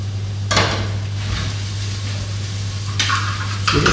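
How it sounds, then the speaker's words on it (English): Shallots and garlic go into warm oil in a pan with a soft sizzle. Sharp bursts of stirring and metal scraping come over a steady low hum from the stove. "you want to hear that sizzle"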